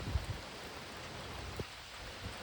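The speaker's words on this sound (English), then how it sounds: "Please leave a comment if you enjoy the rain." Rain falls outdoors during a massive rain storm as a soft, steady, distant hiss, with a couple of faint low thumps and no talking.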